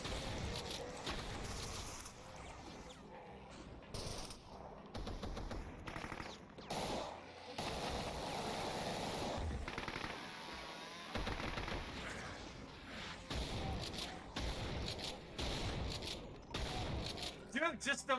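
A chaingunner unleashes rapid machine-gun bursts in Doom II played on a Metal Gear Solid WAD map pack, with repeated stuttering volleys and game explosions mixed under someone talking excitedly throughout.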